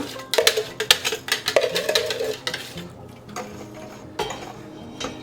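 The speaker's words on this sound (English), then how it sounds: "I can whisk this up, get this ready to go" Lemon curd mixture being whisked in a pot on the heat, with rapid, close clinking and scraping strokes against the metal that ease off into a few scattered taps.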